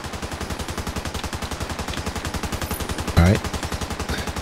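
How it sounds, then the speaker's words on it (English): Rapid automatic gunfire in the video game The Division 2 rattles in a fast, even stream throughout, with a brief louder burst partway through. "So, whatever gunfire that is, they just started doing this."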